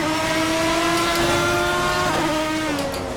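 A race car engine in the Assetto Corsa sim racing game runs loud and steady throughout, its high harmonic whine holding near constant pitch, then dipping and shifting briefly as if on a gear change near the end.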